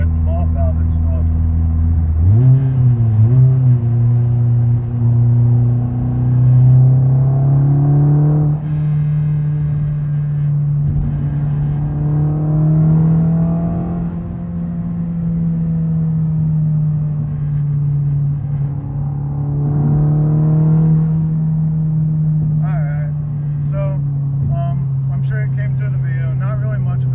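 Inside the cabin of a 2023 Honda Civic Type R fitted with stiff engine mounts and an HKS SQV4 blow-off valve with recirculation kit, a loud, steady engine drone rises and falls through gear changes while someone talks over it.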